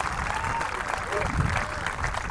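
Audience applause at a high school drumline performance in Frisco, Texas, a steady wash of clapping from a crowd that holds at even loudness throughout, with some voices mixed in underneath.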